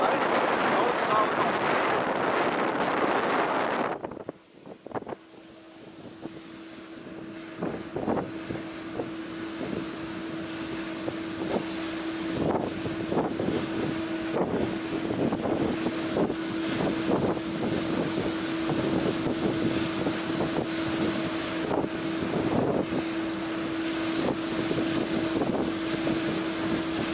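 Loud wind buffeting a microphone high on a wind turbine in a wind farm, then a steady engine drone with a constant hum and scattered knocks and rumbles underneath.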